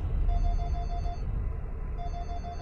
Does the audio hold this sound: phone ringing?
yes